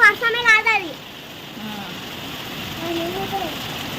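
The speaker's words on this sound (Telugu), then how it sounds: "వర్షం అనేది ఫుల్ ఫుల్ ఫుల్ ఫుల్ దంచుతుంది వర్షం అంటే" Steady, heavy downpour with a constant wash of hiss; a voice speaks briefly at the start, then the rain continues alone.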